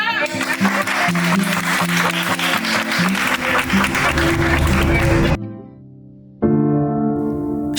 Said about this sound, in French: On applaudit pour la fête.